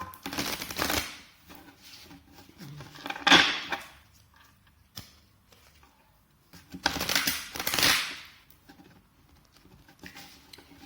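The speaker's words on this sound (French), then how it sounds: "on mélange vraiment bien et intimement nos cartes" A deck of oracle cards is shuffled by hand in close, crisp bursts of riffling and patter, three main rounds separated by quieter pauses.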